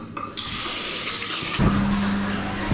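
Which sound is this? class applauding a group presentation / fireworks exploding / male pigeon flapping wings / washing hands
washing hands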